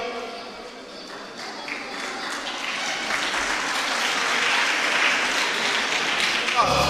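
Hall audience applauding an award winner, a former government teacher, at a ceremony; broad, steady clapping that swells gradually and stays loud to the end.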